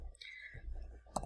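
Keys and a mouse clicking on a computer while typing into a document, soft taps through the clip and one sharp, louder click near the end.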